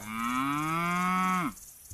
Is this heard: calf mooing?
yes